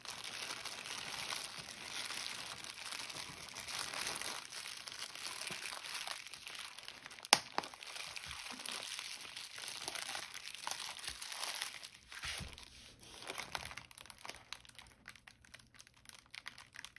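A tightly closed plastic bag holding a small electronic board is squeezed and pressed by hand, giving close, soft crinkling and crumpling with one sharp crackle midway, quieter toward the end.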